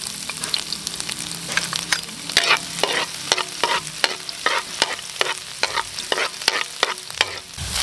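Garlic and onion sauté in a hot pan, a steady sizzle broken by regular scraping stirs, close and clear with no talking.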